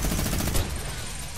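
A short burst of rapid gunfire from a combat video game match rattles loudly for just over a second.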